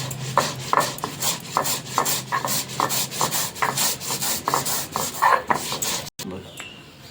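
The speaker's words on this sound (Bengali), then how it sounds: "যে পোস্ত নিয়েছি, এবার পোস্তটা বেটে নেব।" Poppy seeds being ground into a paste, heard as a close, repeated rasping grind with rhythmic back-and-forth strokes that stop abruptly near the end.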